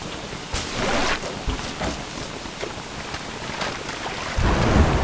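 A storm in the video game Don't Starve Together, with steady rain hiss broken by sharp crackling thunder strikes and a heavier rumble near the end, close and fairly loud.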